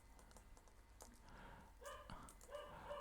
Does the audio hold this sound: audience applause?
no